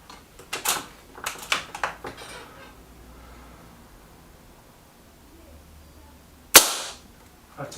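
Shots from a Remington Vought air rifle fired at a small target card: several sharp cracks early on, a quiet stretch, then one loud, close shot near the end, with faint talk in the background.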